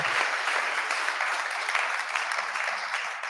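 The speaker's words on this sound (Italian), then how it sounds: "Applausi." An audience claps steadily and fairly loudly throughout, a dense, even wash of hands with no break.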